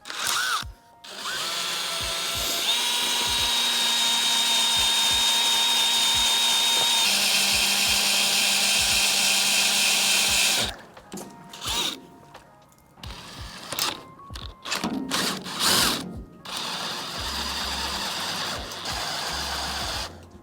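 A power drill whines loudly for about ten seconds at a steady pitch, then stops, followed by short bursts, clicks and handling noises, during dump truck repair.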